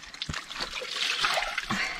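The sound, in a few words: liquid being poured while washing butter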